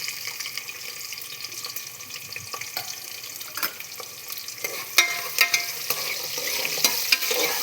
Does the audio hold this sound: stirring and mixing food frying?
yes